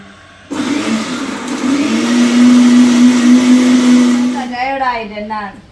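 A mixer grinder blending green chilies into paste starts abruptly and whirs loudly at a steady high pitch for about four seconds, then winds down as a voice begins speaking.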